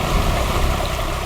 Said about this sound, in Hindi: सामने देखो, वाटरफॉल कितना सुंदर है ना पायल?